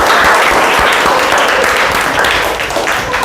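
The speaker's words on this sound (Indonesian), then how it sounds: "Tepuk tangan untuk kita semua." A classroom of students applauding together, dense and loud clapping that carries on without a break, tapering slightly near the end.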